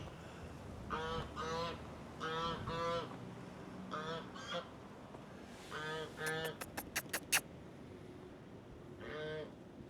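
A goose on a farm honks in repeated short bursts, moderately close, with a rapid run of sharp calls partway through and faint farmyard ambience beneath.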